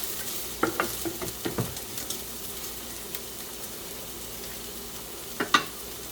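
Garlic cooking in a tagine for a Berber lamb dish, with faint low sizzling and a few scattered clinks and scrapes of stirring near the start and end.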